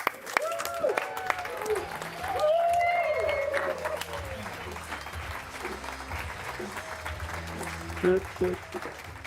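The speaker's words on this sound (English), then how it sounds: "Everyone give Philip a round of applause." Conference audience at Codegarden 2023 applauds a guest, a steady spread of clapping that lasts several seconds with a voice speaking over it.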